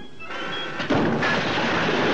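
A cartoon cannon fires a cannonball, a short muffled blast followed by a rushing whoosh that fills the rest of the moment, loud and close, with no voices.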